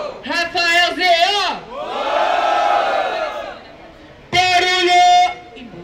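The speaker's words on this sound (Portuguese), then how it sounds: "barulho pra quem gostou das rimas de Rafael Zeo" A crowd at a rap battle in Itaquera cheers and shouts loudly together, with a sustained roar in the middle, framed by an excited voice calling out before and after.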